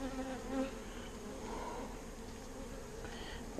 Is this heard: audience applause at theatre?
no